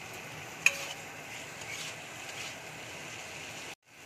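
Tomatoes with salt fry in a pan with a soft, steady sizzle and one sharp clink of a stirring utensil. The sound stays faint throughout and cuts off abruptly just before the end.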